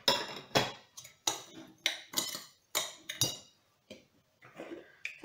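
Walnuts and almonds being mixed with granulated sugar in a bowl for a gazelle-horn pastry filling, heard as a series of about ten sharp scraping, clinking strokes in an uneven rhythm, close and fairly loud with brief pauses between.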